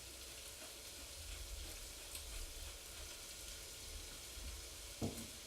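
Garlic browning in a hot pan with red pepper flakes, a steady soft sizzle and crackle of frying close by, with a brief clatter near the end and no talking.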